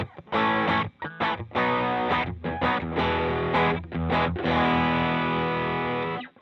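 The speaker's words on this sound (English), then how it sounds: "you hear the distortion or the volume level going down quite a bit there from normal to boost" Heavily distorted electric guitar chords through a vintage overdrive pedal, switched between boost and normal modes, ring out loud and sustained, with a few brief stops between strums before a long held chord.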